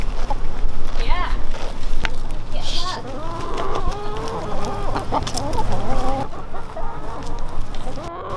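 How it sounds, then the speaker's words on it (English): Backyard egg-laying chickens cluck and squawk nearby while eating grass, with repeated overlapping calls and scratching rustle, as people talk over them. "One chicken is eating mine."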